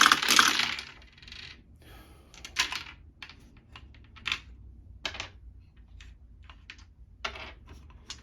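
Dice clatter across a tabletop during a solo session of the Tarawa 1943 wargame, with a loud opening rattle followed by a scattered series of sharp clicks and knocks as individual dice are rolled and rerolled.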